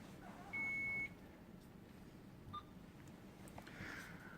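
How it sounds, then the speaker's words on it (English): A medical device in a pharmacology simulation gives a clear half-second electronic beep, then a much shorter chirp a moment later, over a quiet room hum. "Right now, for some reason, this keeps beeping, so we're going to see if we can adjust it."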